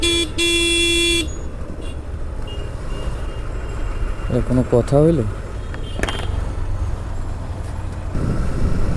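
Morning traffic jam by a bridge and flyover construction site, with cars, trucks and buses idling and rumbling. A reversing alarm beeps at the start, a horn toots midway, and a person speaks briefly over the din.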